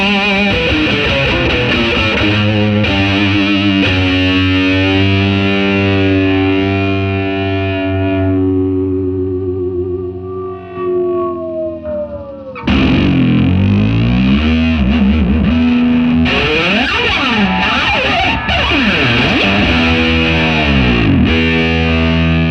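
Electric guitar played through an ENGL Classic Tube 50W valve amp with reverb on, heavily distorted sustained chords ringing out and fading, then a burst of busier overdriven riffing, loud and close with no voices.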